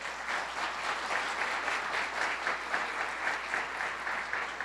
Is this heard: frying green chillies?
no